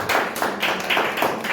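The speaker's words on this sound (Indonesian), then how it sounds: "Beri tepuk tangan yang meriah." Church congregation clapping at a sermon, a dense rhythmic patter of hand claps in quick regular beats, loud and close throughout.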